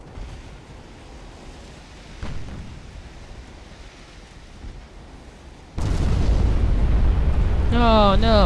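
A ship's flash fire explodes in the naval video game Ultimate Admiral: Dreadnoughts: after faint distant thuds, a sudden loud blast erupts into a sustained roar, and a voice starts speaking over it at the end.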